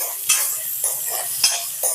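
Potatoes fry with onions in a pan with a soft, steady sizzle, broken by four sharp scrapes of a utensil against the pan, close by and with no talking.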